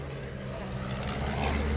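Aerobatic propeller airplane performing at the 2017 Greenwood Lake Airshow, a steady engine drone holding at moderate loudness and swelling slightly near the end.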